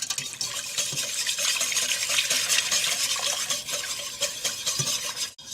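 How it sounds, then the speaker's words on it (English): Vegetable broth at room temperature poured and stirred into a hot roux in a pan, a steady loud wet swishing and bubbling that runs continuously and close, with light utensil scrapes and no voices. "We're now going to add 2 cups of a room temperature vegetable broth or stock to our hot roux"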